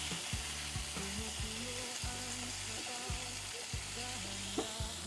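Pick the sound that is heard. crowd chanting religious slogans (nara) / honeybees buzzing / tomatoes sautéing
tomatoes sautéing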